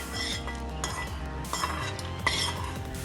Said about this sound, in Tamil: முந்திரி திராட்சையும் நெய்யில் வறுத்து வச்சுருக்குறோம். இப்போ இதையும் நம்ம இதில் போட்டுக்குவோம்.